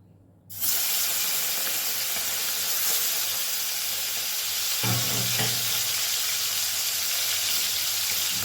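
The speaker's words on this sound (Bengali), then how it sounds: "তেল গরম হয়ে গেছে এবারে আমি চিংড়ি মাছগুলো একটু নুন হলুদ দিয়ে ভেজে নেব" Prawns seasoned with salt and turmeric drop into hot mustard oil and burst into a loud, dense sizzle that holds steady, rising briefly with a couple of sharper spits midway, close and without speech.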